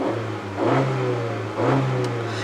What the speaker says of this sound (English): It's a pretty nice sounding motor.